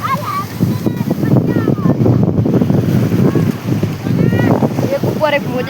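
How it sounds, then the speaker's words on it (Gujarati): Sea waves roll in one after another onto a beach where a person stands in the shallows, a continuous rushing wash with gusty wind noise, while voices talk over it throughout. "એક ઉપર એક મોજા આવ્યો છે"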